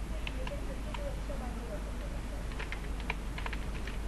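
Soft key taps on a computer keyboard while code is typed, scattered light clicks in small clusters, faint and close beneath a steady background hum, with someone speaking over them.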